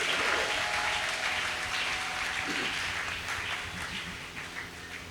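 Congregation at a church gathering applauds loudly and continuously, a dense wash of clapping that slowly fades a little toward the end, with a few cheers mixed in.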